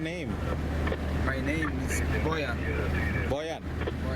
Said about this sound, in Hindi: गाड़ी अभी हाइड पार्क से दौड़ रही है।